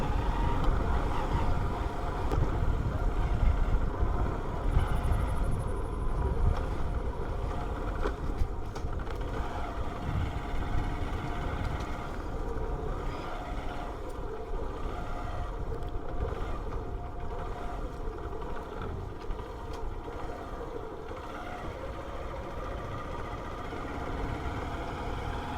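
A motorbike engine rumbles continuously while riding, its low drone mixed with wind buffeting, steady and fairly close for the whole stretch, gradually easing slightly toward the end.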